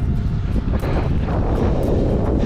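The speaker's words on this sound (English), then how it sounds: "Wind's blowing, it's a cross breeze." A steady crosswind buffets the microphone while a cyclist rides a long road event, producing a continuous loud low rumble with no breaks.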